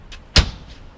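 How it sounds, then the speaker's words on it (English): An ambulance side door gives one sharp, close thud or latch clunk after a faint earlier click, then quiet. "This is the side door."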